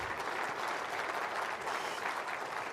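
Conference audience at a 2014 WERC event applauding, a steady, dense wash of clapping from a large crowd that holds at even loudness throughout.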